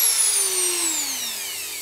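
A Dremel 4000 rotary tool running at variable speed, a close, loud motor whine whose pitch slides steadily downward as the speed drops, heard alone.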